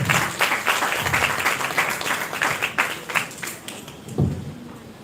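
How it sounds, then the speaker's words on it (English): A round of applause for a woman being honoured on stage at a live program, crowd clapping with distinct individual claps standing out, easing toward the end with a few sharper hits. "Can I please have a loud round of applause for Swarnali Chaudhary ma'am?"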